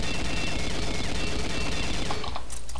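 Rapid automatic gunfire from the M21E rifle in the online shooter Combat Arms, a dense, loud continuous stream of shots that stops abruptly near the end, leaving a few scattered clicks.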